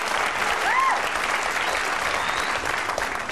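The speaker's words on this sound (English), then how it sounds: "Not sure what you're applauding there" A studio audience applauds during a late-night show monologue. The clapping is dense and sustained at a steady level, with a brief whistle or whoop rising out of the crowd early on.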